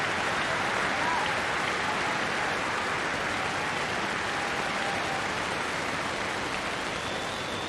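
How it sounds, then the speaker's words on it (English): Generous applause from one section of the crowd at a 1997 South Africa versus New Zealand cricket match in Adelaide: a steady, dense wash of clapping that runs throughout at moderate distance, with no voices above it. "generous applause from that section of the crowd"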